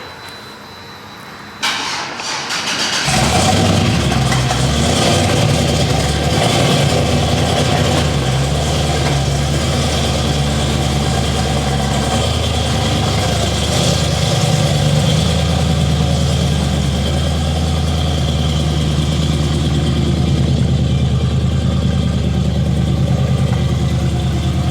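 Twin turbo Chevrolet Malibu warming up at idle, starting after a brief quiet moment, then settling into a loud, steady, droning idle that holds for the rest of the span with no talk.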